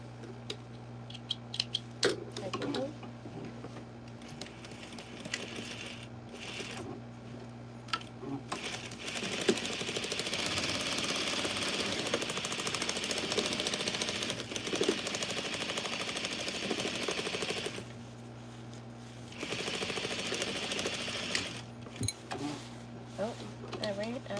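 A home sewing machine stitches fabric for a Butterick B6933 pattern in long bursts of rapid rhythmic needle clatter separated by short pauses, close and fairly loud, with a steady motor hum running underneath.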